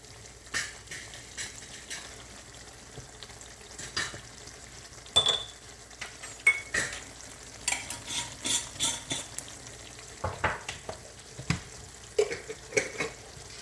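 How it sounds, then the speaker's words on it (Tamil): Egg malai curry with milk and spices simmers quietly in a pan, with a soft low bubbling and faint sizzle under a string of light spoon stirs and scrapes against the pan, and no talk. "கொஞ்ச நேரம் சிம்மரில் இருக்கட்டும்."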